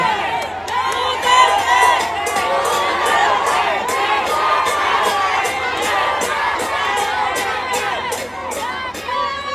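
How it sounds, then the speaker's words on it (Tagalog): A large crowd at a political rally in Manila cheers and shouts Duterte, a loud continuous roar of many voices with rhythmic claps or bursts running through it. "Ang sigaw ng mga tao ay Duterte."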